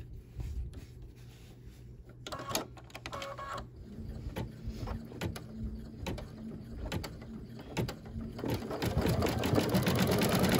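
An embroidery machine stitches an appliqué with rapid mechanical needle rattling that starts quietly and grows louder and steadier toward the end, with a few clicks between stretches.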